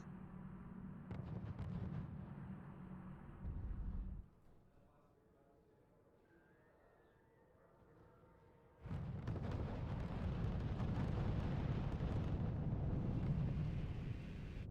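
Mortar and artillery fire in the strategy video game RUSE, a heavy continuous rumble of booming blasts that drops away to a quieter lull, then returns loud and sustained.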